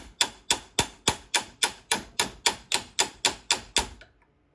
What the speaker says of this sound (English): See, I'm barely even tapping. This is a small hammer.